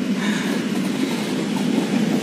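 Purwojaya passenger train leaving Purwokerto station, a steady low rumble of wheels and rolling carriages with a faint rhythmic clatter, close by and continuous with no talk.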